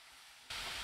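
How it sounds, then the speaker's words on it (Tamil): Cucumber pieces with tomato and onion hit a hot pan and set off a sudden loud, steady sizzle that carries on to the end after a quieter hiss. "வெள்ளிக்காவை போட்டு லேசாக வதக்கி விட்டுக்கிட்டால் போதுங்க."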